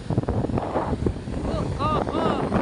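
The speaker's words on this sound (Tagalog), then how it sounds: "Ang lakas po ng hangin! Grabe na ito! Oh! Lakas ng hangin!" Strong wind buffets the microphone with a loud, rumbling roar that runs the whole way through, while a person talks excitedly over it.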